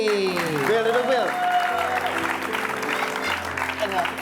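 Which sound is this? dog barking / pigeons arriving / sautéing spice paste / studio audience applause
studio audience applause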